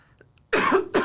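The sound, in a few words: cough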